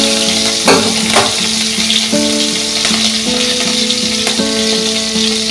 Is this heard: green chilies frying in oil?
yes